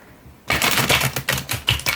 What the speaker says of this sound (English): I'm so bad at shuffling because my hands are so small.